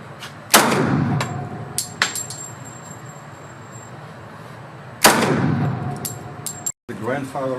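.45 caliber 1911 pistol fired at a shooting range: two loud, sharp shots a few seconds apart with ringing decay, plus small clanks and voices in between.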